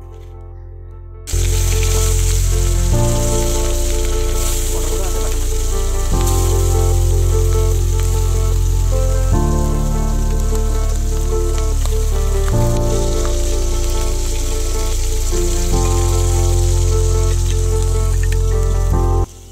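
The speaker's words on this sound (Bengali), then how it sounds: "এবার কিন্তু এক এক করে আমি এখানে বাটা মাছগুলো তেলের মধ্যে দিয়ে ভেজে নেব।" Bata fish go into hot oil in a kadai and set off a loud, continuous sizzle that starts abruptly after a short quiet moment and then crackles steadily. A faint tonal background runs underneath.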